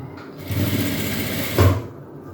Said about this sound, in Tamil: டபுள் ஃபோல்ட் பண்ணி ஸ்டிச் பண்ணிடலாம்.